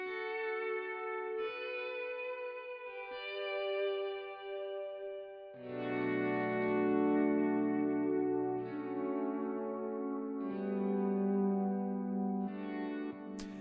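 Ambient electric guitar with a violin-like swell effect and vibrato, playing sustained, smoothly fading-in notes drenched in chorus, echo and reverb, a slow layered melody with wavering pitch, clear and prominent with no talking.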